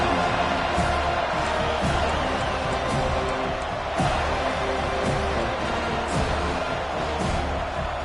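Stadium crowd at a Seminoles college football game roars in a steady, dense wash of cheering and noise, with occasional sharper bursts, heard at a distance beneath a commentator's voice.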